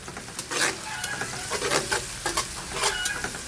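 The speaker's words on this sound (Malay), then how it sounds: "Kita tumis lagi sampai bawang dia garing." Shallots stir-fried in plenty of oil for crispy bird's-eye chili sambal, a dense close sizzle broken by repeated spatula scrapes and stirring taps, with no voices.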